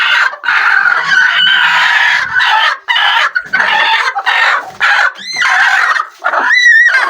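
A rooster crows loudly and repeatedly up close, while hens cluck and squawk continuously around it.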